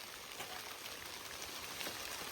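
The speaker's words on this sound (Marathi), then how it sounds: "परत पाऊस चालू झालाय" Rain falls again in a faint, steady patter with scattered drop ticks on surfaces, soft and continuous throughout.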